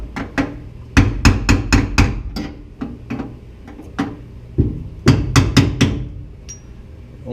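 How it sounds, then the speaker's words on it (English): Sharp, loud metal hammer strikes set a Mach 1 fuel sender, landing in quick bursts of four or five blows separated by short pauses, close up with no talking. "Probably didn't need as big a hammer as I'm using, but better too big than too small"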